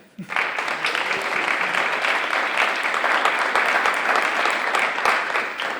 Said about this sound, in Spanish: para dar paso a Raúl, os invito a que le deis un aplauso de bienvenida.